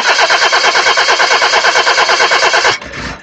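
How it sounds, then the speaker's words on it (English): A car engine cranks rapidly and repeatedly without catching, a loud, steady rhythmic churning for nearly three seconds before cutting off into quieter residual noise. "Car won't start?"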